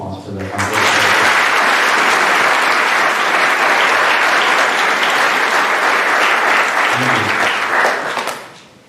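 Audience applause fills an athletic awards night, starting abruptly and holding loud and dense for about eight seconds before tapering off, with a brief voice near the end.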